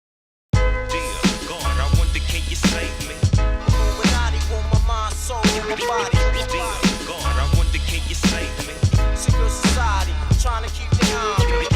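A hip-hop beat plays from an Akai S950 sampler and MPC60, recorded to tape, with punchy regular drum hits, deep bass and layered melodic samples looping steadily, with no voices.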